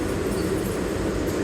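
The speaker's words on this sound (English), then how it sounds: "This is a 34th Street Hudson Yards 7th train." A New York subway 7 train near Grand Central Station roars and rumbles steadily inside the car, a loud continuous rail noise with no voices.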